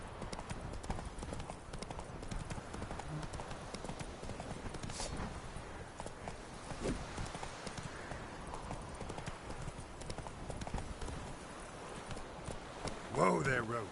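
Horse hooves clip-clop at a steady walking rhythm in The Witcher video game, fairly close and continuous, with faint voices and game ambience underneath.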